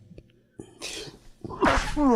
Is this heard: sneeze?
yes